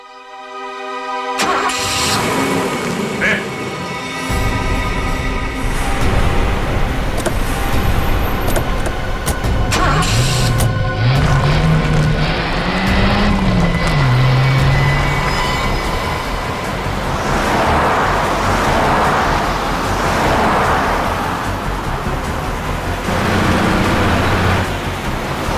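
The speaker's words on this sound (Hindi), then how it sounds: "गाड़ी बहुत तेज चला रही है" Vehicle driven fast, a loud continuous rumbling roar with rising and falling engine tones and some squealing, heard without speech throughout.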